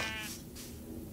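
A sheep bleats in the Minecraft video game, one short wavering cry at the start, quiet and fading into faint background.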